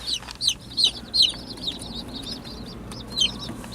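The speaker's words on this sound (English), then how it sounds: "we got a bunch of little chicks in the car." High, thin peeping calls from several small birds, repeated in quick bursts over a low rumbling hum in an enclosed space.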